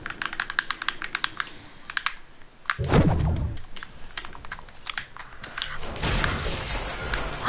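Computer keyboard typed on during a livestreamed game session: rapid bursts of sharp, close clicks with a few heavier thumps, clattering almost continuously with short pauses.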